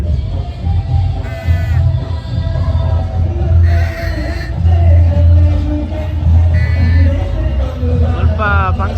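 Crowd of people gathered at the Udupi Paryaya festival near Krishna Math, a loud dense mix of voices and chatter, with shouts and calls rising and falling throughout.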